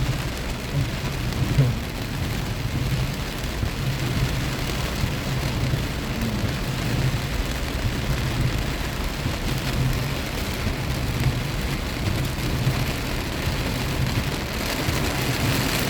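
Heavy rain pours steadily in Pathum Thani, a dense, unbroken roar of drops on surfaces that holds constant throughout, with a faint low rumble beneath and no voices.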